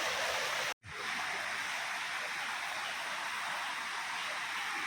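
Strongly flowing stream water rushing through a forest, a steady, dense and loud wash that runs unbroken apart from a brief cut near the start.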